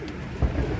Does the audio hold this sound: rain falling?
no